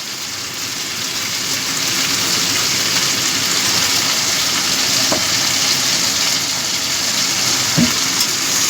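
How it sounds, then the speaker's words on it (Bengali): Spices, salt, turmeric and tomatoes frying with okra in a pan give a loud, continuous hiss like rain, steady throughout with a couple of faint clicks and no voices. "আর একটু ভাজা ভাজা করে নেব"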